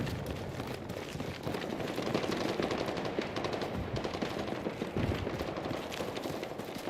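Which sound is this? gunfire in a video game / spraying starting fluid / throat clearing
gunfire in a video game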